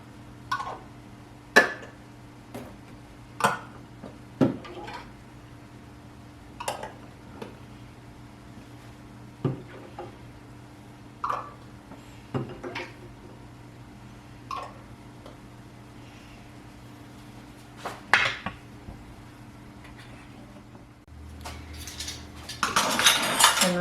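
Metal canning lids are set one by one onto glass jars of raw-packed chicken for pressure canning, making about a dozen sharp, separate clinks and ticks over a low steady hum, then a louder clatter at the end.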